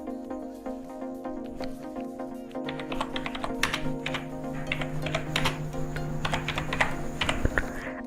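Fingers tap out text on a computer keyboard nearby, a run of quick, uneven key clicks that grows busier and slightly louder midway, with no talking.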